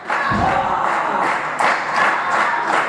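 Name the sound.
wrestling crowd cheering and shouting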